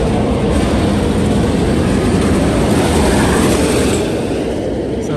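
Roller coaster train of the YoY ride at Walibi Holland, an RMC coaster, roaring away from the station in a steady, loud broadband rumble that holds for several seconds, then eases slightly near the end.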